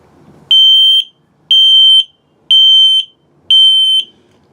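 An LP and carbon monoxide detector in a 2022 Apex Nano 208BHS travel trailer sounds its self-test: four loud, piercing electronic beeps of equal length, evenly spaced with short silences between.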